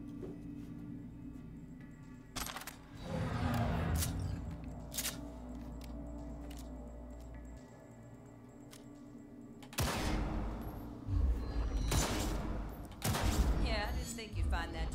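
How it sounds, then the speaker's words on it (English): Gunfire on a tactical target practice range in Cyberpunk 2077 comes in scattered clusters of sharp shots, several loud bursts near the start and again toward the end, over a steady low hum with quieter gaps between. "Let's blast through a tactical target practice program."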